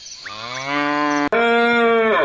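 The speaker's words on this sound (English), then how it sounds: "cow," A cow moos loudly and up close in two long, drawn-out calls, with a brief break between them.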